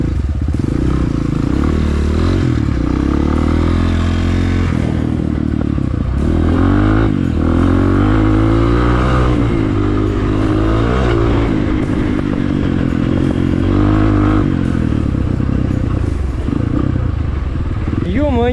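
A Rottor Titan 250, a 250 cc motorcycle, rides continuously with a loud, steady engine drone and repeated revving swells, accompanied by rattles and wind as a rider talks over it.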